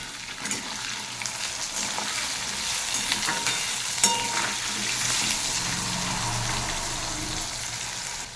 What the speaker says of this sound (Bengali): পোস্তটা বসানোর জন্য কড়াইতে তেল দিয়ে দিয়েছি, দিয়ে দিচ্ছি আলু কাটা